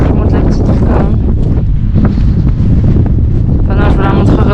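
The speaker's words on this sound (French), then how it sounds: "Ça commence à être très exposé au vent." Strong wind buffets the microphone on an exposed mountain trail at Cradle Mountain National Park in Australia, a loud continuous low roar with gusting surges, while someone speaks beneath it.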